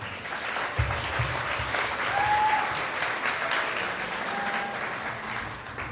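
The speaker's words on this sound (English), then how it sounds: "Can we get a little intermediary applause for everybody who's gone so far?" Audience applause for student groups presenting at a school business pitch event, steady and full across the whole stretch with a few faint whistles or cheers on top.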